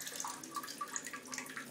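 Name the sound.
Japanese toilet bidet spraying water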